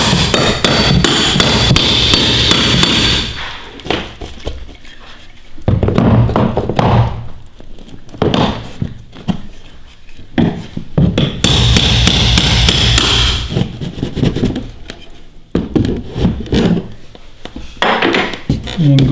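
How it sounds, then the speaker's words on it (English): Loud repeated hammer blows on wood in bursts, with knocking and prying from a pry bar between strikes and quieter pauses, while removing a wall. "now we're going to take a hammer and some sort of pry bar"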